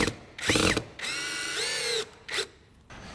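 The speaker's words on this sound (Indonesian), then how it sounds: "Terus habis itu pasang ke bornya, terus langsung tes deh ke arah yang mau kalian bor." Electric power drill fitted with a bit, used at a furniture workshop, whirring in several short bursts with one longer spin of rising and falling pitch, close and clear.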